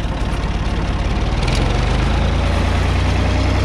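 A tractor engine with its PTO engaged for mowing wheat stubble runs close and loud, a heavy, steady low rumble that builds slightly as it revs up.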